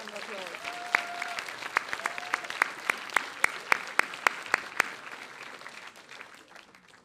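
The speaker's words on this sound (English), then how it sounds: "we can give him another round of applause" Applause after an award mention at a British Skydiving AGM and awards event, a room of hands clapping steadily with sharp individual claps standing out, then thinning toward the end; faint voices murmur beneath.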